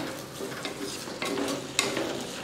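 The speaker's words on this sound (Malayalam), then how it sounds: "ഇട്ട് കൊടുത്ത് നന്നായി മിക്സ് ചെയ്തിട്ട് ഉള്ളി നന്നായിട്ട് വഴറ്റാൻ വെക്കുക" Onions sautéing in a pan for Kerala-style egg roast, a steady moderate sizzle with stirring scrapes and one sharp clink near the end, no one talking.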